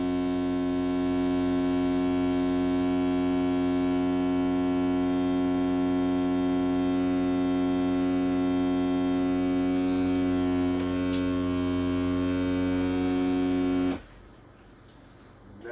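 An Avid Armor Magicvac Maxima2 vacuum sealer drawing air from bags of steak and salmon gives off a loud, steady motor drone with a strong buzzing hum, then cuts off abruptly near the end.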